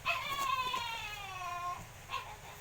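A dog nearby lets out a drawn-out whimpering howl that wavers and trails off, then a short second whine follows, over a low background hum.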